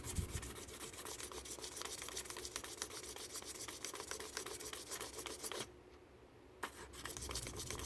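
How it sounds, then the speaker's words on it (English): Very fine sandpaper rubbing on an Aurora Tjet Thunderjet 500 slot car chassis, a faint steady scratchy rasp of quick strokes that stops briefly near the end and then picks up again. "Now I'll go to the very fine sandpaper."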